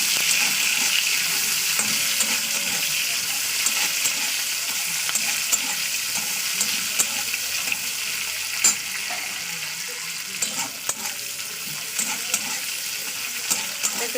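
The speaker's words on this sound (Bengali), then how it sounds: "পেঁয়াজটা দিয়ে আবার ভাজা করে নিতে হবে।" Chopped onion frying in hot oil with a steady, continuous sizzle, stirred throughout with scattered scraping clicks from a spoon, close and fairly loud with no talk.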